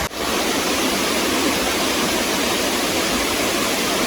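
Dedugala waterfall roars as a loud, steady broadband rush of falling water, unbroken and close throughout.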